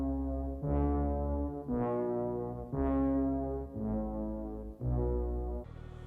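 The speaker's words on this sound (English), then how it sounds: "The Dies Irae is a pre-14th century requiem chant that you have heard before." The Dies Irae, a medieval requiem chant melody used at funerals, plays as sustained, harmonically rich tones in slow, heavy phrases, each note swelling and fading in turn, loud and alone.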